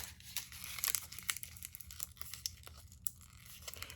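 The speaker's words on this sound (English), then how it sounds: "we're going to fold this one in half" A craft piece for a Halloween candy corn sign is folded in half by hand, giving close, soft crinkling and creasing rustles with a few sharper crackles.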